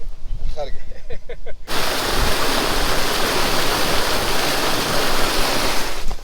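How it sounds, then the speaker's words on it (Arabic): Groundwater gushes from a well in the Kharga Oasis, Egypt. A brief bit of talk comes first, then a loud, steady, close rushing of water that fills the rest of the clip. "دي ميه جوفيه طالعه من تحت الارض"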